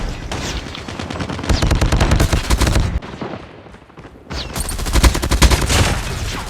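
Rapid automatic gunfire in Call of Duty Mobile, played on a snowy Big Head Blizzard map, rattles loud and close in sustained bursts, breaking off for about a second before another burst resumes.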